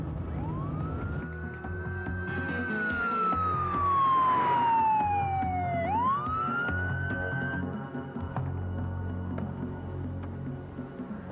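A police car siren gives one long wail that rises, glides slowly down, then climbs sharply again over a low engine rumble, loud and close before fading out.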